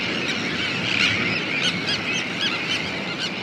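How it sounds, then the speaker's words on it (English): A nesting seabird colony on the Norfolk coast, with birds flying in carrying fish; dense, continuous squealing calls overlap into a steady chorus, with sharper individual cries standing out near and far. "The noise that you can hear in the background is individual birds arriving with fish"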